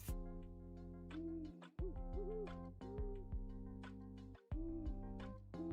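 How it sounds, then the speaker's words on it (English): Recorded owl hoots play continuously as background audio, repeated tonal hoot calls rising and falling over a steady droning bed, fairly quiet, with no talking. "What's playing? Is it just owl sounds?"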